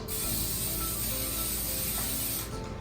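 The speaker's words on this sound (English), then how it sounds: "I am going to spray it with cooking spray." Cooking spray hisses onto a clean pan in one continuous close, steady spray lasting a few seconds before cutting off.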